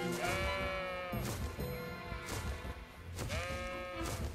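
Sheep bleat in the video game Baldo: The Guardian Owls, two wavering calls separated by a pause, close and clear over a soft background with no talk.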